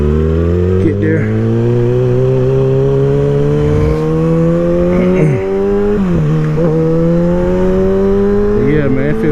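2023 Kawasaki ZX6R KRT sport motorcycle cruising on the interstate, engine droning steadily and loudly with rising pitch through gear changes and brief shifts, wind rushing underneath throughout.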